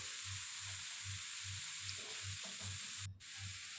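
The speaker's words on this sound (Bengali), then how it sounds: "এরকম করে তেলের মধ্যে থোড়টাকে দিয়ে নেব।" Squeezed banana stem fries in hot oil with a continuous loud hiss and sizzle, over a regular low pulsing thump and a brief dip near the end.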